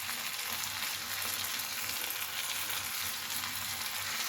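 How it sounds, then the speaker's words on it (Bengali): Onion and spice paste fries in a pan with a steady, dense sizzle and crackle that stays even and close throughout, with no voices. "পেঁয়াজটা ভাজা হয়ে গেছে, এবার পেস্টটা এর সাথে অ্যাড করে দিলাম, দিয়ে ভালো করে কষতে হবে।"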